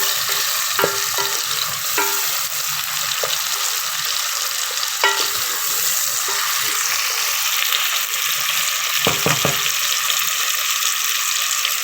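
Okra and onions with tomato and green chilies frying in a pan, a steady soft sizzle with a few sharp clicks and scrapes of stirring, no voices over it.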